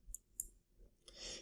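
Faint, crisp mouse clicks on a computer, two quick separate clicks then a softer rustle, very quiet and close, while building a form in Microsoft Access.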